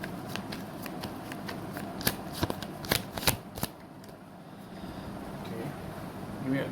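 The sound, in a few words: shuffling tarot cards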